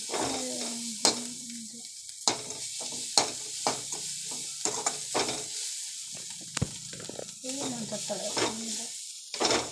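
A curry sizzles and fries in a pan while being stirred, with steady frying noise punctuated by scraping and clinking of the utensil against the pan, and a person's voice speaking intermittently over it.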